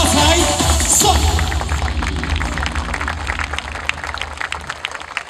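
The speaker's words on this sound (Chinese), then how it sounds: "哇，好热情的掌声啊！" Enthusiastic audience applause at a getai Chinese New Year stage show at River Hongbao, The Float @ Marina Bay: dense, loud clapping from a crowd that gradually thins and tapers off.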